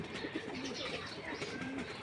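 Racing pigeons coo quietly in a couple of soft, low, drawn-out calls at close range over a steady faint ambient hiss.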